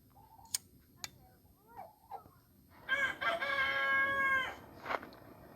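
A bird calls out loudly for about a second and a half, a harsh crowing or gobbling burst, with a few sharp clicks and quieter calls before it.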